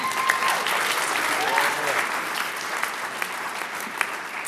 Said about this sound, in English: I encourage you to cheer on your loved ones.